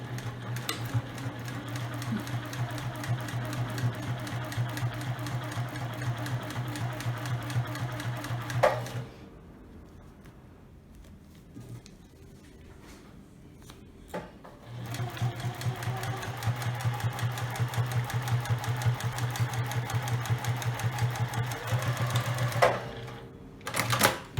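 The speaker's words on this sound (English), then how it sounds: "I just finished sewing all 3 areas." A sewing machine stitches fabric for storage boxes in two long, steady runs of rapid mechanical whirring and clatter, separated by a quieter pause with faint handling noises, then a few clicks at the end.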